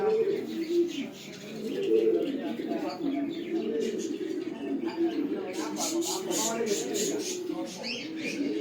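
Pairs of exhibition pigeons coo in low, rolling, repeated calls throughout, close by, with voices talking over them.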